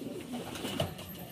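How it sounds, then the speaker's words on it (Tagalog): A soft, low coo from a racing pigeon arriving home rises briefly over faint background noise, close and quiet. "Dumating din ang ibon natin."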